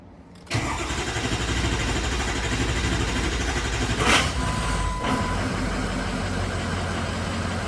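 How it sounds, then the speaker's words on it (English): A Ford 6.0 diesel truck engine cranks briefly, then catches and settles into a loud, steady rumbling idle that runs on to the end, close by. "So now I'm gonna crank on the truck, and the truck's gonna start"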